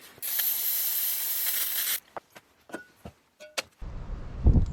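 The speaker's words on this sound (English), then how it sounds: "More carb cleaner." Carb cleaner sprays in one loud, close two-second hiss onto the engine of a 1960 John Deere 1010, followed by scattered small clicks and knocks and then low rumbling handling noise.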